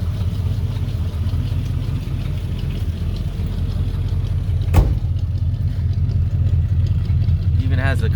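A car engine idles steadily and evenly with a low continuous rumble, close by, while people talk over it and a brief sharp knock sounds partway through.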